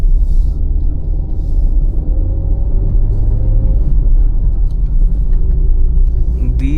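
A Hyundai i20 Elite's engine drones low and steady from inside the cabin as it downshifts climbing a narrow forest road in Shimla, with a rising rev tone and someone talking over it.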